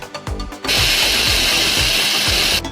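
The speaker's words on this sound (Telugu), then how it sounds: "ఇప్పుడు వచ్చేసి దీన్ని మిక్సీలో వేసుకుంటున్నాను" A mixer grinder whirs loudly and steadily after a few short bumps and clicks, then cuts off near the end.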